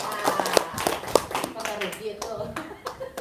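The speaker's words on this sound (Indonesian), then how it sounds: "Tepuk tangan dulu dong ya." Audience clapping at an Indonesian motivational talk, a scattered patter of hands mixed with overlapping voices and chatter throughout.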